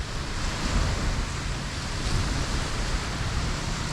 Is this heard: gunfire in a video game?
no